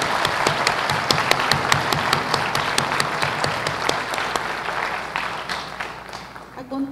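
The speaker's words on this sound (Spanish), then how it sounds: "Solicito a todos ustedes un aplauso para los..." Sustained crowd applause fills a university medicine faculty graduation ceremony in El Salvador, many hands clapping with sharp individual claps standing out before it fades near the end.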